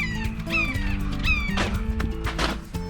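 A hawk calls from above a lake near a state park dam, giving two thin descending cries early on, followed by some rustling and thumping nearby.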